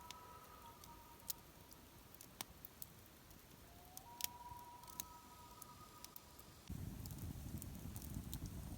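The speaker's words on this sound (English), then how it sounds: "every now and then a bird, a loon, something" A common loon calls across a lake in the Temagami wilderness, its long wavering wails drifting faintly from far off. Soft crackles and pops from a nearby campfire are heard beneath, and a louder rushing hiss starts near the end.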